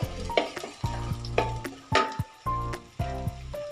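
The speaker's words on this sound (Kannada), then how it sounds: "ತಕ್ಷಣ ಎಣ್ಣೆ ಒಳಗಡೆಗೆ ನಾನು ಸ್ವಲ್ಪ ಮೆಣಸಿನ್ಕಾಯಿನೂ ಸೇರಿಸ್ತೀನಿ." Green chillies fry in hot oil in a pan for wheat-flour vegetable momos, giving a steady close sizzle broken by repeated scraping stirs.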